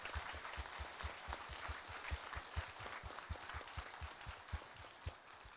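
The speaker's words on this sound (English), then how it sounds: "let's have a round of applause for the great volunteers who made it happen" Applause from an audience of residents at an all-candidates community meeting, a dense, steady patter of many hands clapping at moderate volume throughout, with no talk over it.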